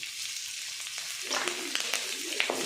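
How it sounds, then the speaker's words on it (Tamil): Green chillies drop into hot oil in a pan and a sharp, crackling sizzle jumps up partway through, staying close and steady with small pops over the hiss. "அந்த பச்சை மிளகாய் உள்ளே போட போகிறோம்"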